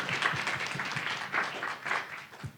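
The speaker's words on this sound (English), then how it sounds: "So give yourselves a round of applause." Students clap after a college debate on social media censorship, a close, moderately loud burst of applause with individual claps audible throughout.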